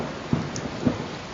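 Heavy monsoon rain: a steady dense hiss of falling water with a couple of soft low thumps, fairly faint and brief, with no voices.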